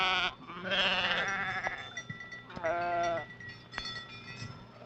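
Several Navajo sheep bleat nearby in short, wavering bursts separated by brief pauses, with no talking.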